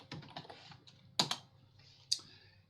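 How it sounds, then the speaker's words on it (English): Quiet typing on a computer keyboard: a light flurry of key taps followed by a couple of sharper, isolated keystrokes, close and alone. "You can type in like make money"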